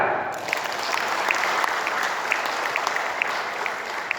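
An audience at a Forkabi regional board inauguration ceremony breaks into sustained applause after a retired army major general's speech, a dense, even wash of clapping with no talk over it.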